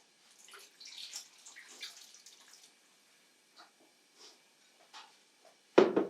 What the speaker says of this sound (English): I'm going to begin by pouring the wine directly over the pears into the saucepan.